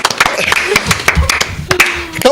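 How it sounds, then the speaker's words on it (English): A small audience at a talk show claps in scattered, uneven bursts at close range, with voices mixed in. "A big round of applause for Rylee."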